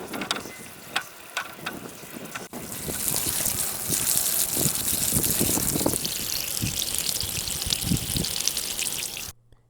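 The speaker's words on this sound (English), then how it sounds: "and then we'll get the hose out" Water from a garden hose sprays and pours over freshly cut rhubarb pieces, a steady close rush of water with some clicking and rattling at the start, ending abruptly.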